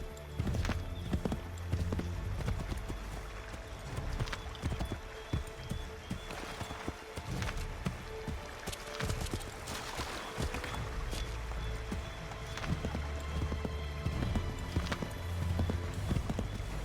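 Hooves of a horse in the Assassin's Creed 3 video game clop in a steady, fast galloping rhythm, close and continuous under a layered game soundscape with no talking.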